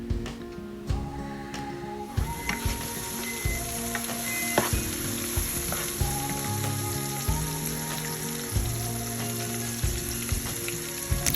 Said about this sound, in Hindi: लेकिन इस तरह से गार्लिक में इसको फ्राई कर लेना ज़रूरी है